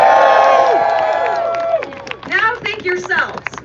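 A crowd at an outdoor vape rally in Washington DC cheers and claps, with whoops and shouts rising in bursts over a steady wash of noise while a voice on a loudspeaker carries on near the front.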